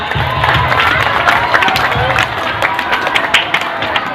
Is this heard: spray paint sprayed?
no